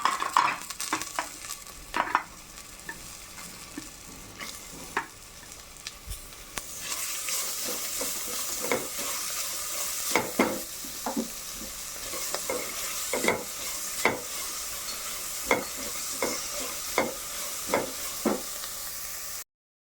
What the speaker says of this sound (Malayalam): ഇനി നമുക്കിതിലേക്ക് പച്ചമുളകും ഉള്ളിയും കൂടെ ഇട്ട് കൊടുക്കും.